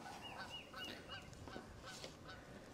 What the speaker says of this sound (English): That's just a bird.